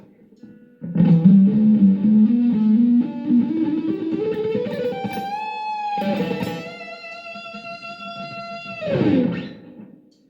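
Distorted electric guitar plays a fast run of sixteenth-note triplets climbing in pitch, then rings out in sustained bends, loud and alone.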